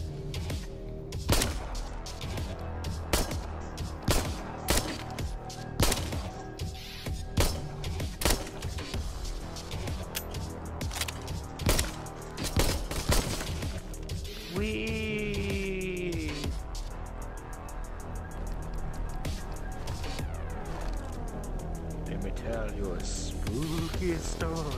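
Gunfire in the zombie VR shooter Arizona Sunshine: shots crack out roughly once a second in a steady rhythm, then give way to a dense, rumbling game soundscape with a warbling tone and a voice in the mix.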